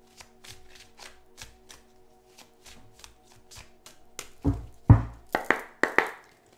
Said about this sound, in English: We'll do three shuffles and then we'll cut the deck.